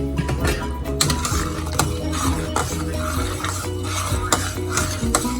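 Peas and rice with coconut milk being stirred in a pot, the spoon scraping in a steady, repeated rhythm close by, with no talking.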